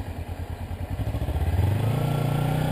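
A Kawasaki Ninja 300 engine pulses at low revs, then climbs steadily in pitch as the rider opens the throttle, heard close and moderately loud with no talk.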